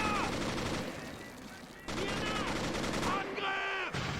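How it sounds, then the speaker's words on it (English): Gunfire in the WWII strategy game Men of War: Assault Squad during a German advance on Soviet troops, with dense rattling volleys and bursts crackling continuously alongside whistling effects and someone talking over it. "we're firing at the advancing Soviet troops that are trying to come to the rescue of the charcoal factory"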